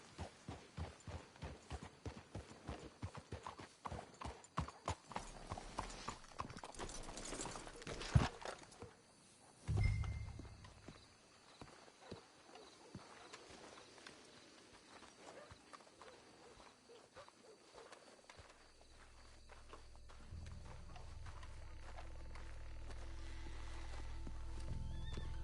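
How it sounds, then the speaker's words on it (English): Horses in a video game clop along at a walking pace and give a whinny, with hoofbeats rhythmic and fairly loud early on, then fading into quieter ambient sound and a low rumble. "Let's hitch the horses up ahead."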